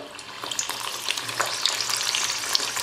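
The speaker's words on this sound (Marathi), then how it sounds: "यात आता आपण एक एक करून हे सगळे मुठ्या छान तळून घ्यायचे आहेत मीडियम फ्लेमवर" Methi muthiya, Gujarati fenugreek dumplings, deep-frying one by one in hot oil over a medium flame: a steady, close, fairly loud crackling sizzle with scattered sharp pops, and no talking.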